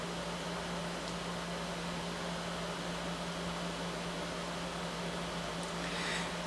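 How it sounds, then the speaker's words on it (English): Portable air conditioner running steadily in a room, a faint, constant hum and airy hiss with no change in level and no other sounds. "I'm sorry about the noise of the air conditioner in the background."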